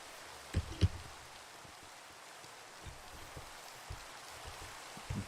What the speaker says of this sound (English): I wish it wasn't fucking raining right now